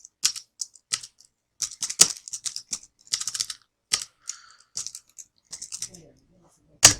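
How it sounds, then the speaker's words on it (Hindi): A name typed on a computer keyboard: close, crisp key clicks in short irregular bursts with brief pauses between, ending in a firmer single keystroke, with no talk over them. "हम यहाँ पे फिर से अपना नेम एंटर करता हूँ"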